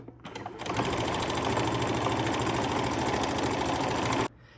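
A sewing machine runs a continuous basting stitch along the bottom of a garment, holding lining and main fabric together; steady, loud motor whir with rapid needle rhythm for about four seconds, then it stops.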